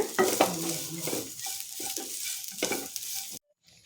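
Sweet coconut filling with cardamom roasting in a pan, stirred with a spoon: close sizzling and scraping strokes against the pan, steady, then cutting off abruptly near the end, no speech.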